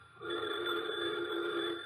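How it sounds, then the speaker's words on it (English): A telephone bell rings in a continuous electronic-sounding burst lasting almost two seconds, steady and moderately loud, with a faint hum underneath and no voices over it. "the phone's ringing."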